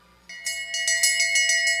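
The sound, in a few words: bell rung for final lap in short track speed skating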